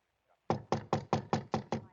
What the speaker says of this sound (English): knocked on the door of flat number 6